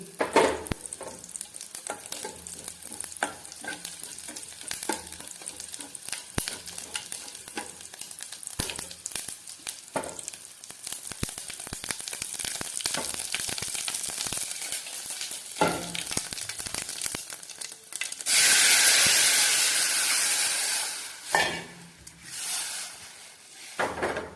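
Whole spices sizzle and crackle steadily in hot oil in a pan, with spoon scrapes and stirring throughout, then a louder burst of hissing near the end.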